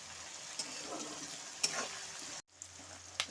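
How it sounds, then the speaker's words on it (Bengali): Mixed vegetables, including cabbage and mushroom, are stir-fried in a pan for fried rice: a soft, steady sizzle with spatula clicks and scrapes, briefly interrupted. "সমস্ত সবজিটা ভাজা ভাজা করা হয়ে গেছে"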